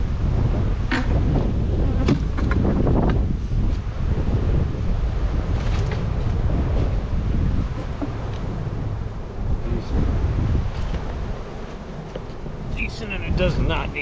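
A large honey bee colony in a nuc yard, heard as a constant close buzzing hum with wind rumble on the microphone throughout.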